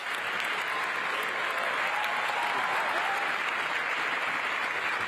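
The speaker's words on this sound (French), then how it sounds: "Le monde entier applaudit et se lève pour un accord historique." Dense, continuous applause from a large hall of delegates at the COP28 climate conference as a historic agreement is reached, loud and even from start to finish, with a faint crowd murmur beneath.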